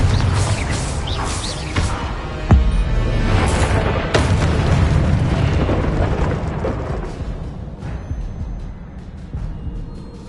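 Confringo fire-blast spells from Hogwarts Legacy boom out in game combat, a dense run of heavy explosive thuds and rumbles with sharp impacts layered over continuous loud action noise.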